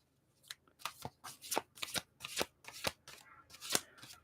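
Tarot cards being shuffled by hand, a series of about eight crisp riffling bursts in an irregular rhythm, close and fairly quiet with no talk.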